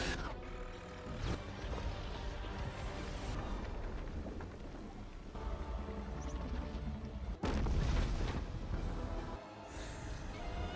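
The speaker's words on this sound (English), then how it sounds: "It's a chaotic symphony of roars, explosions, and the crackle of energy beams." Loud, dense battle noise from Godzilla: King of the Monsters: heavy booms and explosions with deep rumbling monster roars, sustained throughout with a sharp blast near the end.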